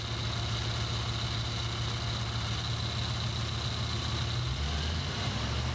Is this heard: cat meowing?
no